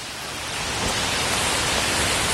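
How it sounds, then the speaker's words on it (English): Heavy pouring rain in a warehouse district of Old City, Philadelphia, a dense steady hiss filling the whole clip and swelling slightly in the first second, with no voices. "And Reagan, that is pouring, soaking rain."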